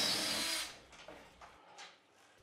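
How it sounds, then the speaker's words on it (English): A power drill whines briefly at the start while pre-drilling a hole in wood for an eye bolt, then cuts off, followed by a few faint knocks and scrapes. "Here I start pre-drilling some holes for my eye bolts"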